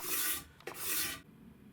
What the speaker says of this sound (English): I did some scraping on the front face of the drawer fronts to remove the old finish